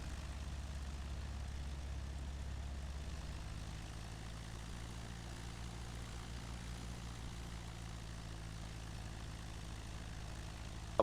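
A small airplane's engine idles near a runway with a steady low drone and propeller hum, continuous and fairly faint, with no talk over it.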